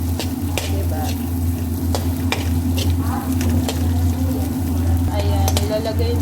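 Large onions fry in a pan for a spicy butter crab dish, giving a steady sizzle under a constant low hum with a few scattered clicks.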